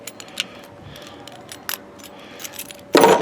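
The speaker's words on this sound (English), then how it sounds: "Double set of GM keys now." A double set of GM car keys jangles and clinks in the hand, with several light rattles scattered through the moment and a louder, fuller jingle at the end, close to the mic.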